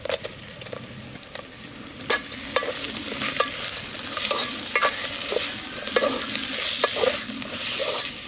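Pullakodi curry, a tribal village-style chicken dish, stirred in a pan over the fire, with repeated sharp scrapes of the spoon against the pan over a continuous sizzle and no talk.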